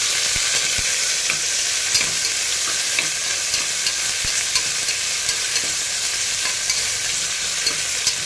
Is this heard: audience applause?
no